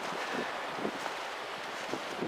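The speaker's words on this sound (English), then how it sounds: "It is seriously windy and miserable out here" Strong wind buffeting a microphone outdoors beside a vehicle rolled out of a shop, a constant loud rumbling roar with gusty surges throughout and no voice.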